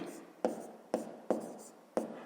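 A pen writes on paper while a fifth-grade math exercise is being worked out, giving five short scratchy strokes at an even pace, close and fairly soft.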